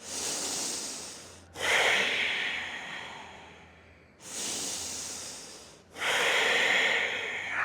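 Forceful yoga breaths from a practice session, alternating long rushing inhales and exhales in a slow steady rhythm, close and breathy, with no talk.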